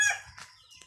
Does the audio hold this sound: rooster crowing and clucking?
yes